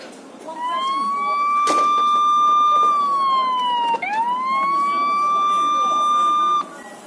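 ORVIBO Smart Door Lock T1's built-in alarm sounding: a loud, close electronic siren holding a steady pitch, dipping and sweeping back up once midway, then cutting off.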